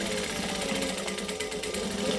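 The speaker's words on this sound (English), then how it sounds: "So I'm just going to chain sew this next one in." Sewing machine chain sewing fabric pieces, a fast continuous mechanical whir with rapid stitch clatter, close and loud, running without pause and with no talk.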